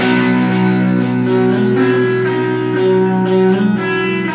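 A distorted electric guitar plays a continuous, thick riff from a song, loud and close, with notes shifting over a steady sustained tone.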